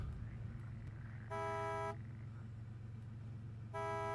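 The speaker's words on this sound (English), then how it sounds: "Honk twice if I know the rules of the road." A vehicle horn in the SnowRunner off-road driving game honks twice, two steady harmonic blasts about two seconds apart, loud over a constant low engine rumble.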